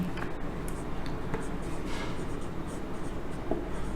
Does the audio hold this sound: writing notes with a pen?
yes